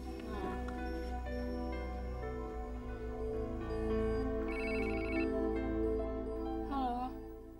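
A telephone ringtone plays a steady, tonal melodic pattern throughout, at moderate loudness and indoors, with faint sounds in the background.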